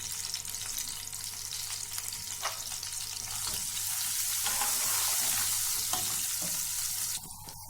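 Steady crackling sizzle of tadka spices, red chillies and garam masala frying in hot oil for dal mash, continuous and close, with no voices.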